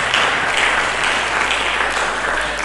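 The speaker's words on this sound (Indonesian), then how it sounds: "Berikan tepuk tangan bagi Yesus Kristus." Church congregation clapping together during a worship service, a dense, steady wash of many hands applauding at even loudness throughout, with no voice on top.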